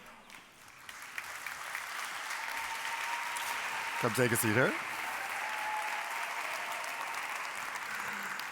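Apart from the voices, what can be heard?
audience applause in the hall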